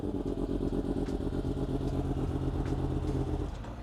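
A warm, stock motorcycle with 154 miles runs close by with a steady, loud, throbbing idle that stays even for several seconds and then eases off a little at the very end.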